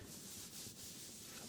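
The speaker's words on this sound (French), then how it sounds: "Je crois que c'est Fabric Sound, les vêtements sous les dents." Clothes are handled and rubbed close to the microphone in a quiet ASMR setting, giving a steady soft fabric swish and rustle that swells slightly in places.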